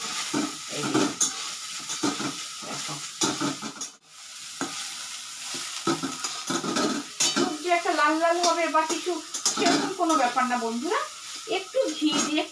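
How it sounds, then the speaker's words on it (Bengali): Soya chunks frying and being stirred in ghee in a pan, with a steady sizzle, scraping stir strokes and utensil clinks on the pan, while a voice talks over much of it. "সোয়াবিনের মধ্যে কিন্তু কিচ্ছু দেবেন এখন শুধু ঘি দিয়ে ভেজে নেবে"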